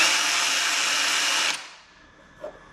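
A power drill whirs steadily while boring screw holes in a van's interior, a loud continuous high whine for about a second and a half that stops abruptly, followed by a brief faint knock.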